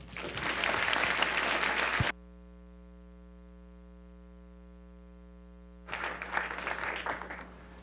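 Audience applause welcoming Dean Paul Goldbart to a physics outreach lecture, a dense burst of clapping for about two seconds, then a gap of steady hum before the clapping swells again near the end.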